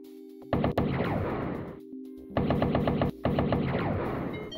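Bursts of rapid automatic gunfire from a 1994 DOS first-person shooter, Blake Stone: Planet Strike, fired at enemies already down: three loud sustained volleys with brief pauses between them, no voices.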